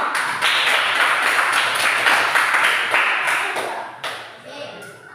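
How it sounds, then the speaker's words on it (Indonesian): A school class applauds a student group, dense clapping from many hands filling the room for several seconds before tapering off near the end. "beri tepuk tangan untuk kelompok."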